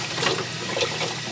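Tap water runs steadily into a sink while items are rinsed, a short close hiss of flowing and splashing water with no talking.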